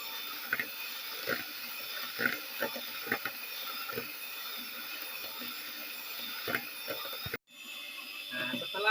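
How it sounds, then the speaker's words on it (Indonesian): An electric hand mixer whirs steadily at high speed, beating eggs for a banana cake, with faint clicks of the beaters against the bowl before the motor cuts off briefly and starts again. "Yang penting mixernya bisa muter"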